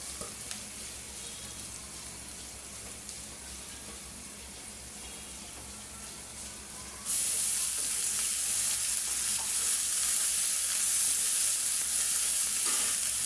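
Ginger and garlic frying in a pan for a puti fish and papaya dish, a steady close sizzle that jumps to a louder, brighter hiss about halfway through and continues alone.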